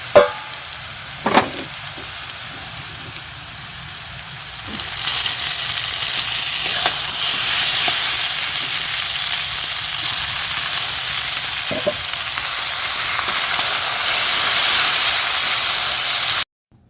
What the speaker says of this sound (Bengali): এবারে চাউমিনগুলো দিয়ে দিই দেখি